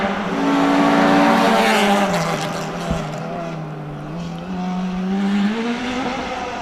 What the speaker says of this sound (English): Beautiful sounding car.